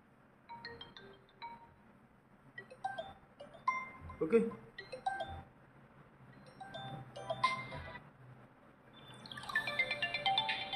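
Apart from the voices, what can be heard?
phone ringtone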